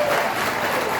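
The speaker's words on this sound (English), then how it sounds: "Round of applause if you received corporal punishment as a child." A comedy-club audience, children among them, claps together in a dense, steady burst of applause filling the short moment.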